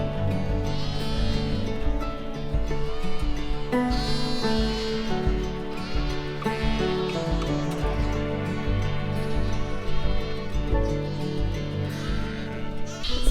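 Sheep and young lambs in a pen at the end of lambing season bleat constantly from near and far, many overlapping calls forming a loud, busy chorus with no talk.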